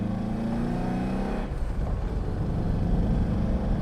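An Alfa Romeo Alfasud Sprint's front-wheel-drive engine pulls under throttle, a steady droning hum that drops in pitch partway through as the revs change, heard from inside the car with no talking.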